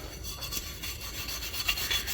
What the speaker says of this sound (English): We'll use this little stainless brush, and any spot that we see that's got any rust, they usually come right off.